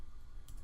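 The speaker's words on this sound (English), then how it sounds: "I'm going to start typing in" Computer keyboard typing during a Premiere editing session, a couple of quick, faint key clicks near the end over a low background hum.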